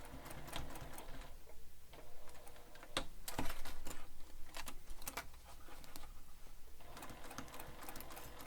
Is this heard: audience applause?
no